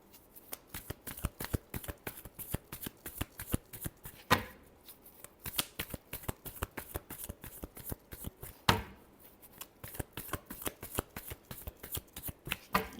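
Tarot cards are shuffled in quick, crisp riffles, a steady rapid flutter of card edges with two sharper bridging snaps, close and fairly quiet with no voices.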